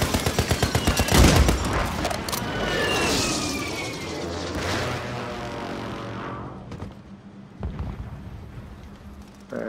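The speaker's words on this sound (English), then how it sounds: "Off the shooting behind us right here." Rapid automatic gunfire fills the opening of a Call of Duty Warzone match in Urzikstan, followed by booming explosions and further scattered shots in the distance.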